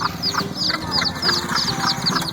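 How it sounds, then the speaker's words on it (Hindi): A hen clucks in short, repeated bursts, with chirping birds and a low background hum filling the farmyard scene around it. "इस पक्षी को कहते हैं मुर्गी। इंग्लिश में इसे कहते हैं HEN, hen।"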